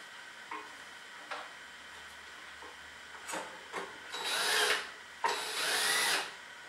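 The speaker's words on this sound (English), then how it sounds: "We'll take and remove the two screws from our box." A power drill backs out two screws from an electrical box during a generator transfer switch install, with a few short clicks followed by two sustained whirring bursts, close and fairly loud.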